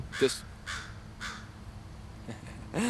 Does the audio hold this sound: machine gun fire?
no